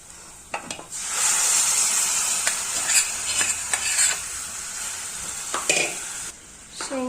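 Drumstick pods with their cooking broth are sautéed in a ground spice paste, heard as a bright frying sizzle broken by several irregular, sharp spatula scrapes and knocks against the pan. No one speaks.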